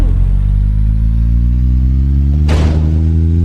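Video game car engine idling with a steady loud drone before a sudden roaring rev at about the midpoint as the vehicle drives off a prison, with no voices.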